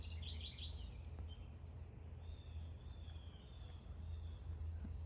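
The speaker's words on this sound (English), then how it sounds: "I love hearing the birds too." Birds singing in a garden after rain among peonies, a few light chirps and a short trill, faint and distant over a steady low hum of outdoor background noise.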